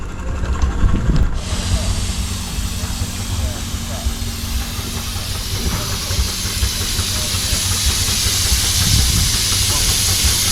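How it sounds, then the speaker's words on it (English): A Burrell Showman's steam traction engine at a rally lets out a loud, continuous hiss of escaping steam. The hiss is close and steady for the whole stretch, with faint low rumbles beneath. "we're back here with the Bromham Steam Traction crew, Tim Osborne and his gorgeous Burrell Showmans"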